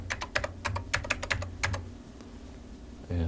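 Close, crisp keystrokes on a computer keyboard come in a quick irregular burst of taps, then pause before a final soft knock.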